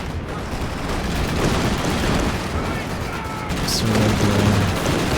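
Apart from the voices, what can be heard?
strafe attack gunfire in a video game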